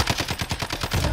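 A SCAR rifle fired in full-auto in a video game, a fast, even string of loud, close shots running straight through the short clip.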